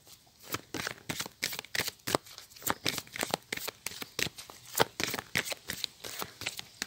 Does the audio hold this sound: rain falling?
no